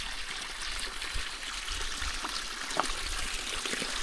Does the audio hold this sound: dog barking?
no